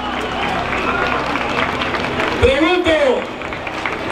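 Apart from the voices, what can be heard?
audience applauding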